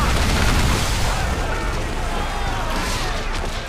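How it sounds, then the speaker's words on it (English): Heavy shot naval cannon fire from a pirate ship in the video game Assassin's Creed IV Black Flag: a dense, continuous, booming roar that fills the whole stretch at high volume. "As we get in close, we're going to unleash the heavy shot."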